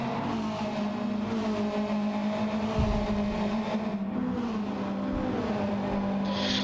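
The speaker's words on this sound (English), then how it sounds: "All these guys slipping and sliding on these old racing hard tires." Race cars on worn hard racing tires slide around Deep Forest Raceway in Gran Turismo, engines droning steadily with shifting pitch and faint tire scrub, close and continuous with no talking.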